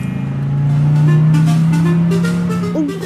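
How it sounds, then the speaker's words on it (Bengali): A cartoon car engine drones with a loud, steady low hum and a slight rise, running continuously close up with no voices over it. "গাড়িটা বুম বুম করতেছে কেন সাম্বা? এইটা আমরা নতুন কিনছি তো, তাই একটু শব্দ করতেছে আর কি।"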